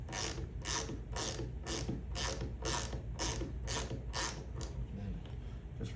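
A portable bearing roller swage tool being tightened down onto a V-groove lip, giving a steady series of about ten loud, close ratcheting clicks at an even rhythm before the turning stops.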